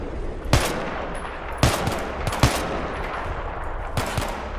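Gunfire in Battlefield 3, several sharp loud shots and short bursts spaced irregularly over a low rumbling background, close and punchy with no talk.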